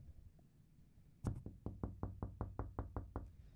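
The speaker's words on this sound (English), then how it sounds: "that's me tapping on the glass of the door" Knuckles tapping on the glass panel of a hotel room door: one sharp knock, then a steady series of about ten crisp, evenly spaced raps, close and clear with no talking.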